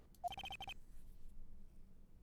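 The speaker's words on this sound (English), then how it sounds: "that's my phone. It's his theme song." A phone ringtone playing Godot's theme from the Phoenix Wright: Ace Attorney – Trials and Tribulations game: a brief, faint run of five or six quick electronic tones, then near-silence.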